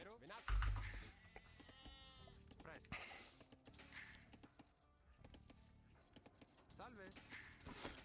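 Sheep bleat in Age of Empires 2, a short quavering call near the start amid game sound effects and keyboard clicks, with someone talking over most of it.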